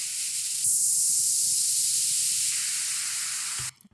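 A bright hissing synth sweep, a Kashmir preset in a future funk track, washes in, swells and holds with an airy, noisy texture, then cuts off abruptly near the end.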